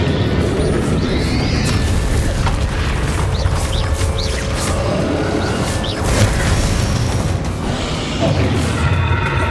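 Repeated Bombarda blasting-spell explosions from the Hogwarts Legacy video game, a steady run of booming crashes and smashes layered over continuous combat noise, loud and close throughout.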